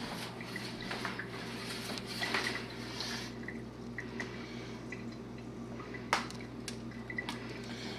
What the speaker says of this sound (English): Stir that in good.